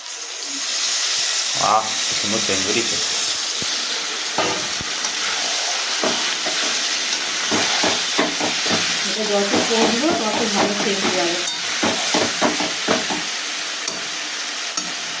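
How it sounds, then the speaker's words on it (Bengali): A ground spice paste is fried with potatoes and onions in a pan, giving a loud continuous sizzle and hiss with repeated scraping stirs, and faint talk in the background. "এবার মশলাটা আমি আলুর মধ্যে দিয়ে ভালো করে কষে নেব"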